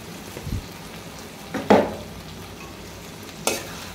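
Fried taro pieces go into sizzling spice paste in a pan, giving a steady frying hiss broken by a few sharp stirring and dropping thuds, close by and without talk.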